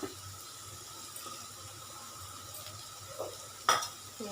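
Bitter gourd sautés in oil in a pan with a soft, steady sizzle, broken by occasional scraping stirs and a louder clink near the end.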